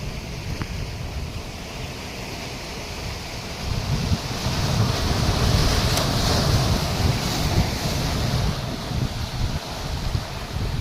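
Sea waves at Paradip port wash in as a steady, fairly loud rumble of surf, with gusty wind buffeting the microphone and swelling through the middle.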